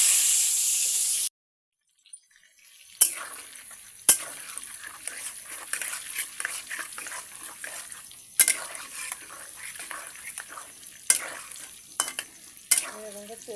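Whole hog plums get stirred in hot oil: a loud sizzle that cuts out, then returns with crackling and repeated sharp clinks and scrapes of a utensil against the pan.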